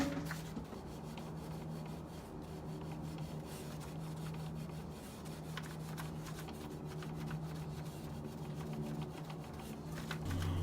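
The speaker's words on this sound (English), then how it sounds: "I'm just going to work it slowly, rubbing back and forth over the whole bar" A heavy-duty green Scotch-Brite pad soaked in Goof Off scrubs slowly back and forth along a metal clamp bar, making a steady, quiet rubbing rasp with a faint low hum underneath and no speech.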